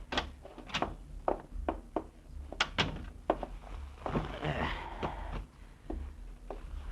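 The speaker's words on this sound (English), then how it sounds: "Get the door, will you?" A door thumps and rattles as it is opened and shut, with a series of knocks and clunks in a quiet room, while a voice murmurs faintly in the background.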